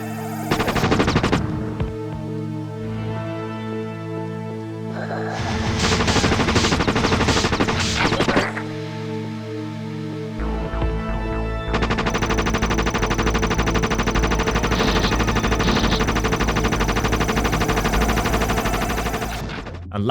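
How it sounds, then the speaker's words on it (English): Rapid bursts of automatic gunfire from a dark industrial first-person shooter on a PlayStation demo disc, loud sustained volleys with short gaps, layered over a droning game soundtrack. "Rapid fire."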